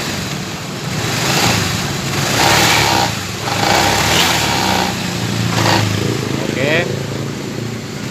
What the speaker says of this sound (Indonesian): Oke, sekarang motor normal ya,